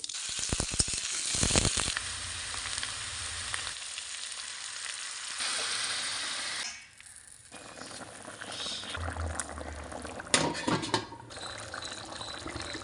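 Potato curry with beans and carrots sizzles and fries in a pan. The frying is loud and continuous, with stirring and scraping noises and a brief dip partway through as the pan settles.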